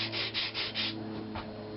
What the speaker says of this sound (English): I just want to take my sandpaper and go back with the grain and make sure there are no tool marks left